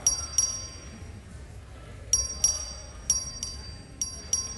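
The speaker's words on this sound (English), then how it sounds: "Clerk, ring the bell." The voting bell rings in the Texas House chamber during a legislative session record vote. Bright, metallic pings come in small clusters, repeating several times over a low room murmur.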